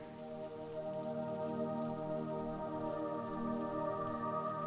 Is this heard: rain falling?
yes